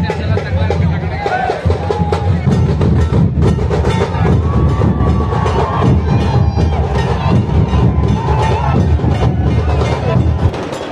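A large crowd gathers at a fort festival honouring a coronation anniversary, with dense, loud, continuous babble and shouts, including children's voices, throughout.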